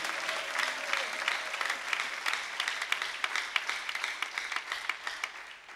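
A church congregation applauds, a full burst of many hands clapping that grows into a rhythmic clap and then tapers off, with faint voices beneath.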